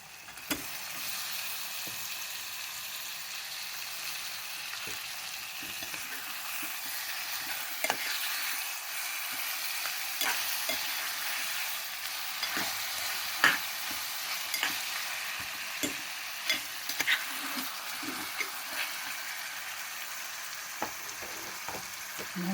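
Mutton pieces sizzle and fry steadily in a hot pan for a chukkakurana-style curry, with frequent scraping clicks from a stirring spoon; close and continuous, no voices.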